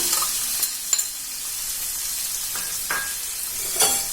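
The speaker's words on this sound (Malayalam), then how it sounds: "ഇതൊരു വലിയ സവാള കുരുകുരുവെന്ന് അരിഞ്ഞിട്ടിട്ടുണ്ട്. അത് ഇതിലേക്ക് ഇട്ട് കൊടുക്കാം." Chopped large onion hits hot coconut oil and fries for a Kerala-style fish biryani masala, a loud close sizzle with a few clanks of stirring against the pan and no talk.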